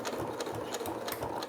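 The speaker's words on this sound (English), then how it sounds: "now I'm actually gonna back stitch down the entire strip" A sewing machine back stitching through six to eight layers of a fabric face mask, its needle running in a steady fast rattling rhythm, close but fairly quiet, with no talk.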